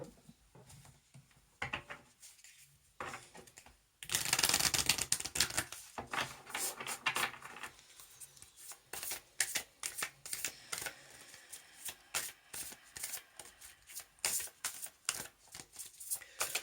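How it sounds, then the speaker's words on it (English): Starseed Oracle cards are shuffled by hand close by, with quiet riffling and soft tapping at first, then a burst of rapid, rhythmic card slaps and shuffles continuing to the end. "next we will have a card from the Starseed Oracle by Rebecca Campbell"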